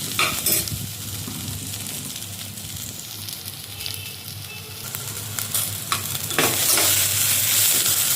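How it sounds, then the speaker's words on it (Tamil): Shallots, curry leaves and coriander sauté in a pan for village-style tomato rice, giving a steady close sizzle with scraping stir strokes that swell louder near the end; no one talks. "சின்ன வெங்காயம், கருவேப்பிலை தலை, கொத்தமல்லி எல்லாமே நான் முன்னாடி வதங்கும்போதே போட்டுருவேன்."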